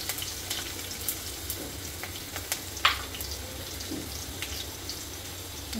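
Curry leaves and asafoetida sizzling in hot oil over a low gas flame for a pumpkin dish, a continuous soft frying crackle with scattered sharp pops and small spatters.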